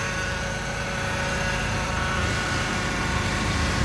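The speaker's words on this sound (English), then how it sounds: "this is the car running." A Honda Accord engine idles steadily, a constant close hum with a faint whine, loud and unchanging throughout, with no talking.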